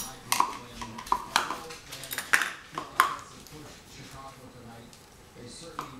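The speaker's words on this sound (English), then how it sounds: "I'm going to grab a clean spoon for that" A clean spoon clinks against a dish while brown sugar is measured for cookies, a string of bright metallic pings spaced unevenly over several seconds, with a voice talking between them.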